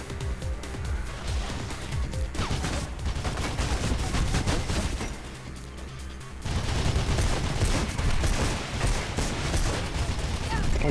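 Machine gun fire in Mirror's Edge: dense, sustained bursts of rapid shots, close and loud, that dip briefly in the middle before resuming at full intensity.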